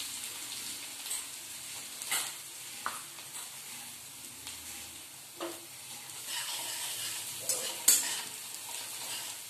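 Curry leaves, garlic and coconut fry in a hot pan, stirred steadily with a spoon, giving a continuous close sizzle broken by scraping strokes and crackling pops, with no voices.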